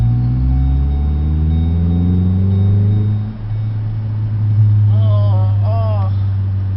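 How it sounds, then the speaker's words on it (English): A 2012 Ford Focus SE four-cylinder manual revs loudly and close by, its engine note climbing in pitch and then holding a steady drone, with someone talking briefly over it near the end. "I love that engine"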